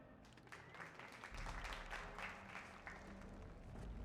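Slow clapping at the Landsmeet in the Dragon Age video game, with steady hand claps repeating over a low hall-like background for several seconds at moderate volume.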